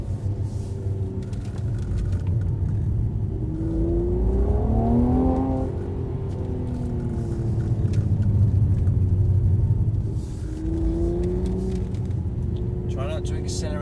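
Mercedes-Benz car on a driving experience track, its engine rumbling and rising and falling in pitch as it brakes for a corner and then accelerates out of the bend, heard from inside the car with people talking over it.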